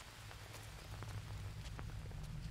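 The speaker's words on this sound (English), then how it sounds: "And I like how there's rain coming in." Rain falling in the jungle survival video game Green Hell, a steady soft patter of drops with scattered clicky hits over a low rumble, constant throughout and fairly quiet.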